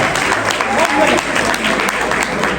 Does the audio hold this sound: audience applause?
yes